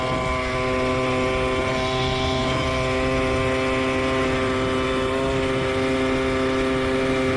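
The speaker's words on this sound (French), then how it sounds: "Là, je suis plein gaz. Voilà, regardez. Je mets le starter un peu." A moped engine from a 40-project "Flèche d'Argent" build runs flat out at full throttle with the choke partly on, giving a steady, loud, buzzing two-stroke drone with strong harmonics and no break throughout.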